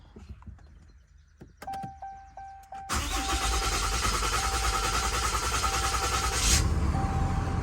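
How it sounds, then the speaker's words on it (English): A 2021 RAM 5500 with a Cummins diesel cranks with a few clicks and chimes, then catches and settles into a loud, steady close-up idle with a broad rumbling clatter. "So let's start the engine."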